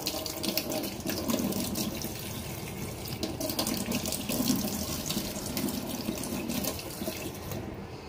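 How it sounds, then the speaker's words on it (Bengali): Cold tap water runs steadily onto indoor potted plants, a continuous close splashing gush with no pauses for about eight seconds. "ভালো করে এদের ঠান্ডা জলে যখন করাবে তখন কলের জলটা যেন ঠান্ডা থাকে সেটা দেখো।"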